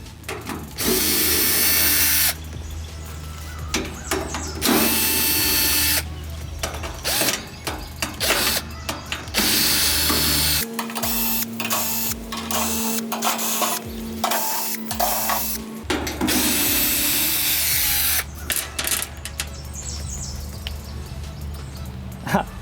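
A power drill fitted with a 75-degree angle bit whirs in repeated loud bursts while removing screws from an air conditioner's access door, with short pauses and clicks between runs and a quieter ratcheting stretch midway.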